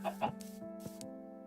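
Chickens in the Minecraft video game cluck in a couple of short, close bursts, followed by faint steady tones of background music.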